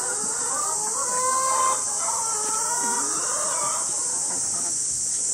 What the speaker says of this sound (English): The lesser chickens are all up here.